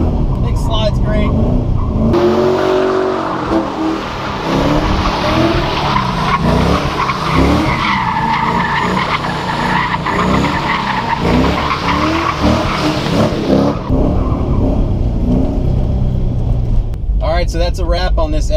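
An LS-swapped Mazda FD RX-7 slides with loud, sustained tire screech and skidding over a hard-revving V8 that runs almost continuously for many seconds, with a voice talking over parts of it.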